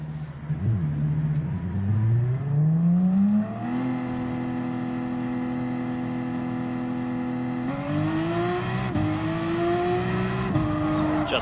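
A Porsche 911 RSR race car in Gran Turismo 7 at Watkins Glen leaves the pit lane, its engine droning steadily and rising in pitch through the gears with sharp shifts, constant and close.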